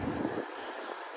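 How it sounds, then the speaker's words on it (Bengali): Wind blowing at the Paturia ferry ghat, a soft, steady low rush across the mic, quiet and unbroken with no voices. "বাতাস"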